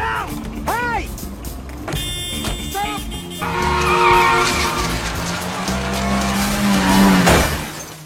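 Car tires skidding in a film scene, ending in a crash into a wall, with loud sliding noise and engine sound building up, under shouting voices and music.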